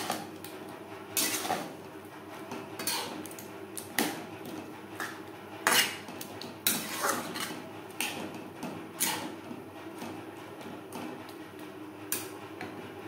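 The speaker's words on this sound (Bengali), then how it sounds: "ডালের সাথে পেঁপে বেশ ভালো করে মিক্সড করে দেব।" A spoon stirs papaya into moong dal in a cooking pot, giving irregular metallic clinks and scrapes against the pot's sides for about thirteen seconds, with a few louder knocks and no talking.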